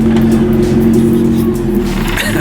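An EF Civic four-door on eBay coilovers idles loudly and steadily up close, a low rumbling drone as it creeps forward.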